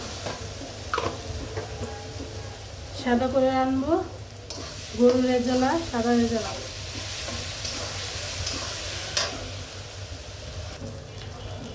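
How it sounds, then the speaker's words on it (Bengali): Ginger, garlic and onion frying in a pan for beef rezala give a low continuous sizzle with occasional stirring scrapes and clinks, while a person speaks briefly over it in the middle. "আদা রসুনটি আগে ভেজে নিই, আদা রসুনে ভাজার পরে আমি মশলা দিই"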